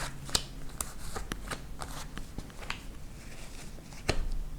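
Tarot cards shuffled and drawn by hand, with a rapid run of crisp flicks and snaps up close and a brief louder burst near the end. No talk.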